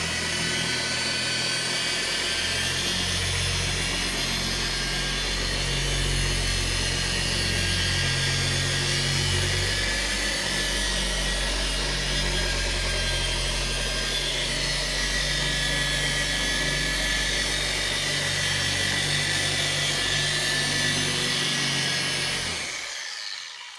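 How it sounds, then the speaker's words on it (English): Car polisher running steadily while spreading polish sealer across a vehicle panel, a loud continuous motor whine with a rumbling low hum for about twenty-three seconds before it spins down and stops. "and we start up the polisher."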